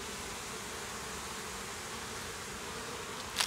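A steady, dense hum of many honeybees buzzing close by inside a hive, continuous throughout, with a brief rustle at the very end.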